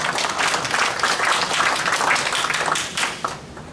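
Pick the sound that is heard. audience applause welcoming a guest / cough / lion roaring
audience applause welcoming a guest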